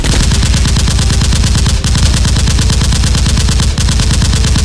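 Nerf guns shoot in a toy blaster fight, a dense continuous stream of rapid, loud, evenly spaced clattering shots with only two brief breaks.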